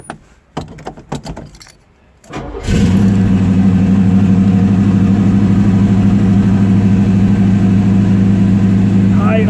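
A 1972 Chevelle SS engine at high idle, a loud, steady, close rumble lasting about seven seconds, preceded by key jingling, clicks and a brief start-up.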